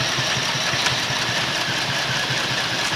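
A Chinese sewing machine stitching a zipper into a Davis canvas tent: a fast, even mechanical chatter of the needle, steady and close throughout, with no pauses and no voices.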